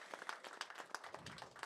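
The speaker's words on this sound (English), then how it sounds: "We can clap for that." Brief, faint audience applause with scattered hand claps at a live event, distant and thin.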